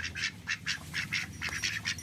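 Ducks, including two males, quack in a quick series of rhythmic nasal calls, about a dozen close, fairly loud quacks in two seconds, with no talking.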